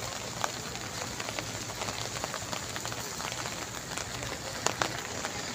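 Heavy rain pours steadily in an outdoor setting, a dense even hiss with scattered sharper drops and a few louder splashes near the end, no voices.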